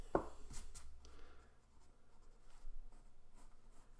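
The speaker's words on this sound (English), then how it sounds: "I'm going to erase my width lines" Pencil lines erased from a face drawing: a short sharp rub at the start, then soft, faint scrubbing strokes, near and quiet, with no voice.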